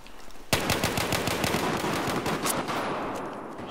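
Rapid automatic gunfire in Battlefield 4 erupts suddenly and rattles on in a dense, loud burst of repeated shots, tapering slightly toward the end.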